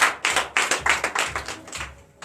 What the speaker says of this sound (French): Donnez l'acclamation à notre Seigneur